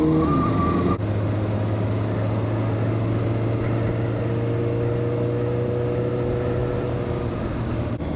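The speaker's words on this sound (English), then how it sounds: "I've never ridden my motorcycle with this many people before" A continuous engine drone with a steady low hum, like riding among motorcycles in a group ride in Vaasa, Finland, one rising whine fading out early; no voices.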